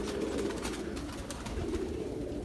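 Sialkoti pigeons coo softly and repeatedly nearby, a low throaty warbling that continues steadily with no talking.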